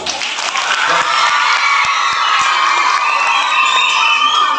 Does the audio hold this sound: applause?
yes